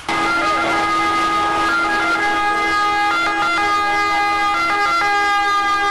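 Fire engine sirens wail steadily and loud as emergency vehicles arrive at a blaze at a factory, the rising and falling tones layered over one another with road noise beneath and no talking.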